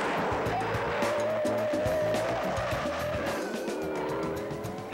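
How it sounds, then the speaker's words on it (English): A modified Ford Gran Torino engine with a hotter cam and carburetor revs loudly and close, a lumpy rumbling idle climbing into a rising whine before easing off slightly toward the end. "the engine had been modified by a previous owner with a lot hotter cam and carburetor"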